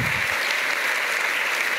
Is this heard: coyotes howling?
no